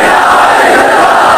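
A large rally crowd shouts a reply to a political slogan, a loud, dense roar of many voices heard up close for a brief moment.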